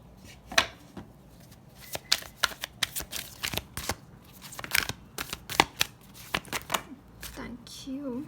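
A deck of cards is shuffled close by in repeated riffles and sharp snaps, uneven in rhythm, with a voice heard faintly toward the end.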